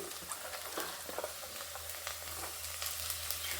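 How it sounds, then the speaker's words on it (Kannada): Onion, beans and other vegetables frying in a pan for millet upma, with a steady close sizzle and occasional stirring scrapes throughout, no talking. "ನೆಕ್ಸ್ಟ್ ತರಕಾರಿ ಹಾಕ್ತೀವಿ ಇದು ಬಾಡಿದೆ ಇವಾಗ ಈರುಳ್ಳಿ ಹುರುಳಿಕಾಯಿ"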